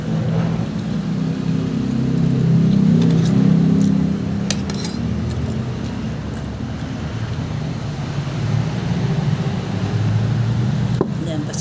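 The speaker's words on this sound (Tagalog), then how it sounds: "So maririnig mo talaga lahat ng mga dumadaan na iba-ibang klase sakyan" Cars, tricycles and motorbikes pass on a highway in front of a house, blending into a steady roadside rumble with wind-like noise that swells loudest early on, then settles to a continuous drone.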